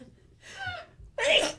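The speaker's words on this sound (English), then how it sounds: "Do you love her sneezes?" Two small sneezes follow each other, a lighter one and then a sharper, louder burst, heard close in a quiet room.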